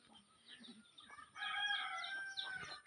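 A rooster crows and a chicken clucks close by, a short bright crow rising in the second half after a few quieter clucks, with no talk over it.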